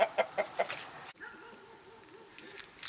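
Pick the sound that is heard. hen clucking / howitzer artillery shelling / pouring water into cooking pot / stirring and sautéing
hen clucking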